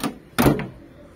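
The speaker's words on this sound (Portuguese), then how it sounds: "Aqui é o fechamento das portas" A door on a four-door 1972 Chevrolet Opala, parked for five years, swings shut with a single solid thump after a lighter knock, then quiet.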